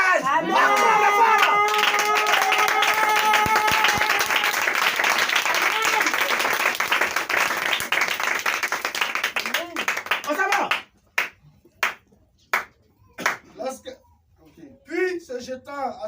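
Churchgoers clap and cheer loudly for a woman for about ten seconds, a thick wash of applause with voices and musical tones mixed in, then it cuts off abruptly into scattered sharp sounds and someone speaking.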